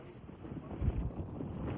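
Strong wind buffets the microphone on a mountaintop in Slovakia in low, rumbling gusts that swell and fade, with a steady roar underneath and no voices.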